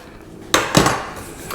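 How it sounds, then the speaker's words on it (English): Metal broiling tray for a Ninja Foodi 10-in-1 XL air fryer oven being handled while making beef jerky, giving a couple of close, sharp clanks followed by a lighter metallic knock. "Bring in the broiling tray."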